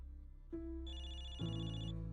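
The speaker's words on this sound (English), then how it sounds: "I can hear someone's phone ring from the back" A phone in a video game's cinema audience rings with a synthetic electronic ringtone, a few steady sustained tones stepping between pitches, faint and clean.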